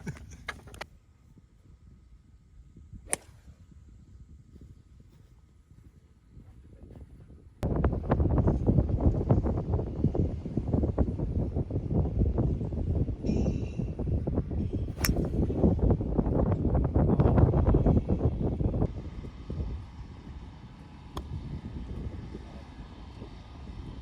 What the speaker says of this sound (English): So it got extremely windy.